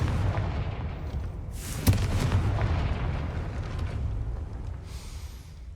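A Confringo blasting curse explodes at a gate in Hogwarts Legacy on PS5, landing as one sharp, loud burst over a steady rumbling game backdrop that carries on afterward.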